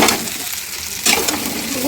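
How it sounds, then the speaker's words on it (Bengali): Potatoes fry with turmeric in a pan, a steady close sizzle with bursts of stirring and a spatula scraping the pan, no talking. "এটাকে ভেজে নিচ্ছি।"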